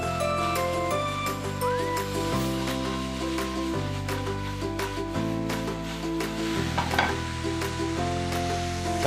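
Mushrooms frying in a pan for a shorba make a continuous, close sizzle with light stirring scrapes, heard under steady background music without talk.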